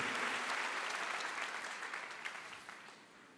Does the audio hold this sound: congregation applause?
yes